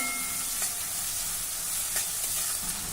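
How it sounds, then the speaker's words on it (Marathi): Onion sautéing in a pan over medium-high heat for paneer bhurji, giving a steady close sizzle with a few faint stirring scrapes and no talking. "आता मध्यम ते मोठ्या आचेवर हा कांदा 1 मिनिट आपण परतून घेऊ"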